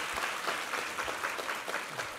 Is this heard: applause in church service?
yes